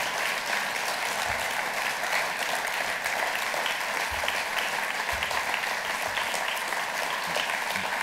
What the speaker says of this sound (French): je vous demande simplement de l'applaudir pour tout son travail